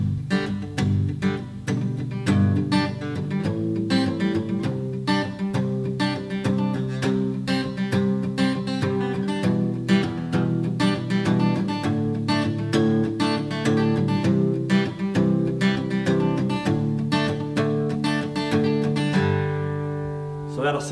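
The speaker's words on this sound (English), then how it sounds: "mainly it's just a palm mute on the lower strings" Steady chugging acoustic guitar palm-muted on the low strings, muted and percussive, with a tight repeated rhythm running for about twenty seconds.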